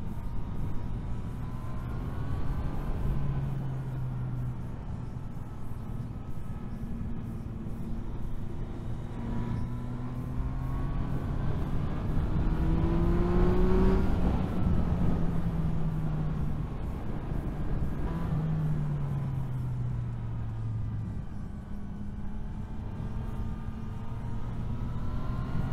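A Yamaha MT-09 SP motorcycle climbing the Hochtannenberg Pass in the Alps, its engine droning steadily with rising and falling revs through gear changes, heavy wind rush throughout.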